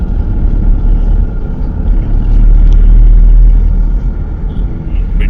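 Motorbikes ridden by Sikh riders coming down from Hemkund Sahib at Karnaprayag, a deep, continuous rumble of engines swelling louder midway and then easing, heard from the roadside.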